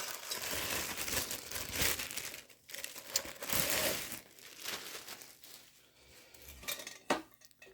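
A stainless steel Kelly Kettle being unpacked from cardboard packaging and a bag, with close crinkling, rustling and light metallic clinks and knocks coming in irregular bursts.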